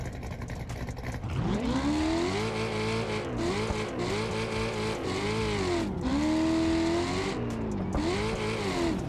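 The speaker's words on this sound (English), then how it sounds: "this thing sounds like a chopped V8" Chopped V8 engine of an off-road vehicle in the BeamNG driving game, revving up and down in repeated rising and falling pulls over a steady loud drone, with no talking.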